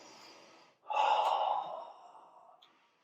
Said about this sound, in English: Breathe a couple good deep breaths.